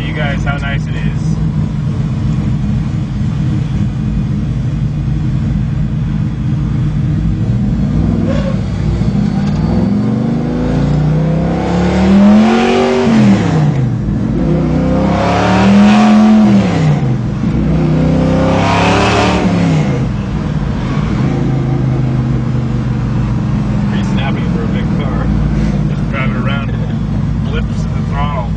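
An Impala muscle car, a heavy car of over 5,000 pounds, has its throttle blipped repeatedly, giving three loud rising revs that swell and fall over a steady idle rumble, with people talking.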